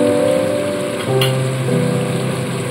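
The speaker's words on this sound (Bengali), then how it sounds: "আরও 1 থেকে 2 মিনিট একটু মশলাটাকে ভালো মতো কষিয়ে নিতে হবে।" Spice paste (masala) fries in oil in a pan for a Bengali fish curry, giving a steady close sizzle, with a brief scrape partway through.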